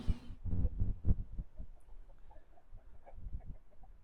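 Chickens and turkeys loaded for a poultry auction cluck and squawk nearby, including blue slate turkey toms, Australorp pullets, a lavender Ameraucana and a buff Brahma. A loud burst of clucking comes first, then scattered softer clucks and calls continue.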